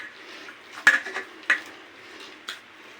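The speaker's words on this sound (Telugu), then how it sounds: "ఇలా బాగా పిండికి పట్టేలాగా కలుపుకోవాలి ఆయిల్ని. బాగా 10 నిమిషాల సేపు ఇట్లా కలుపుతూ ఉండాలి." Oil being worked into flour dough in a bowl, a few sharp clinks of utensil against the bowl at irregular intervals over a soft background, close by and fairly quiet.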